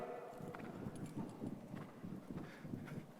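A horse walking in a steady rhythm during a riding masterclass, hooves clopping at a regular pace over a low continuous background, close and moderately loud with no talk.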